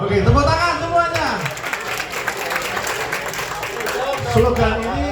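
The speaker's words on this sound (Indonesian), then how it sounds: "Oke, tepuk tangan semuanya." Participants at a corporate transformational leadership training session clap together in a sustained round of applause lasting several seconds, mixed with voices, cheers and chatter throughout.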